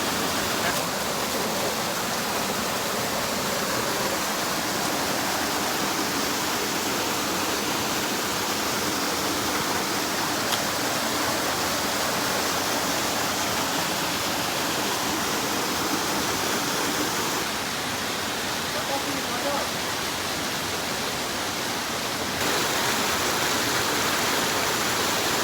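Steady roar of a waterfall pouring into a natural rock swimming pool at Seethampeta, a constant broadband rush with no voices.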